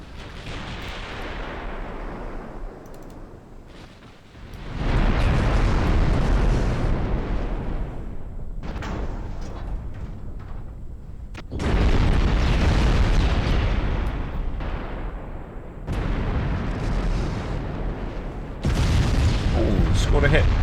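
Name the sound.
warship guns firing high-explosive shells, from a naval video game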